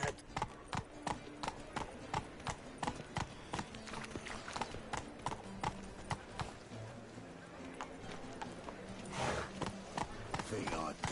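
Geralt's horse Roach gallops in The Witcher 3, hoofbeats pounding in a quick, driving rhythm throughout, with voices speaking over the hooves.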